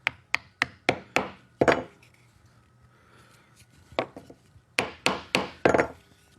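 Sharp wooden taps in quick bursts, about eleven knocks with a pause in the middle, close and crisp as a domino tenon is tapped into wood.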